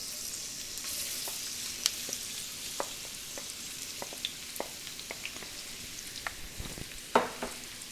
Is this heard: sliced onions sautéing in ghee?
yes